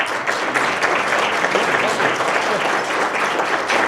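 A room full of people at a Canada–California business summit applauds the panelists, a loud, dense wash of clapping that stays steady throughout with a faint murmur of voices underneath.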